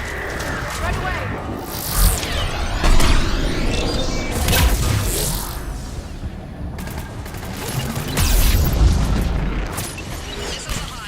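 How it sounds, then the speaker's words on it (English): Missiles launch and explode in Mass Effect 3 over several surging booms and crackling blasts. Combat noise swells and fades, and voices are heard in between. "Missiles are hot."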